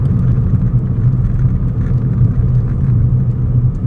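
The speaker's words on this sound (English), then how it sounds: "engine, it does make quite a nice little rumble" A car engine rumbles steadily and deep from inside the cabin while driving on country roads, a continuous low drone with no talk.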